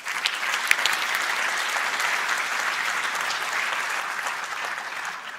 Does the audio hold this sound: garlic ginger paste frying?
no